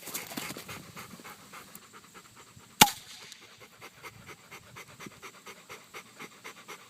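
A dog pants close by in a quick, steady rhythm, with one sharp knock partway through and no talking.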